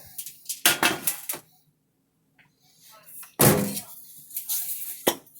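A foil-lined pan is handled on a kitchen countertop, giving a few close clattering knocks and crinkly scrapes in two bursts separated by a quiet pause.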